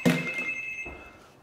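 A telephone or intercom rings in a home kitchen, a loud bell-like trill at the start that hangs on as a steady ringing tone and slowly fades, with no talking.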